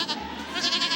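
A goat bleats once, close and loud, a wavering nasal cry lasting about a second at a goat roping event where goats are moved from a pen through wire panels.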